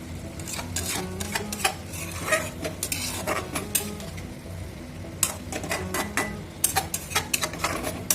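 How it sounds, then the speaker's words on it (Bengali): A spoon scrapes and clatters against a metal pan while papad is stirred into a vegetable curry, with irregular bursts of clinking over a low cooking hiss. "মিক্স করে 1 মিনিটের মতো একটু রান্নাটা করে নেব, যাতে পাঁপড়গুলো তরকারির সাথে ভালোভাবে মিশে যায়।"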